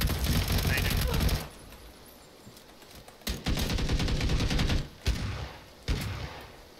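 Repeated shotgun blasts in PUBG, several loud bursts of gunfire separated by short gaps, with the booming shots dominating over quieter stretches.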